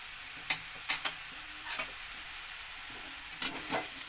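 Radish curry with peas, raisins, tomato and slit green chilies is stirred in a pan: a faint, steady sizzle with a handful of light spoon taps and scrapes, no speech.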